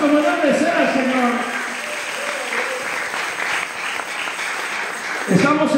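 A church congregation claps for the Lord during a Spanish-language sermon, giving a full and steady burst of applause that begins under a preacher's voice and fills the space before voices return at the end.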